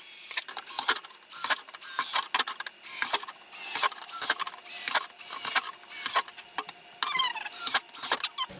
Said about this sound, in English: the other thing that we have to do is put holes in the lid, because we need air to exchange.